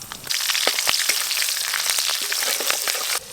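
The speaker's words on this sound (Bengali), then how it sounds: "কড়াই দেবো সর্ষের তেল, ফোড়নে দেবো গোটা সর্ষে আর কাঁচা লঙ্কা" Whole mustard seeds and green chillies hit hot mustard oil in a kadai as a tempering for a fish curry. A sudden loud burst of sizzling follows, peppered with sharp popping crackles, close up and intense for about three seconds.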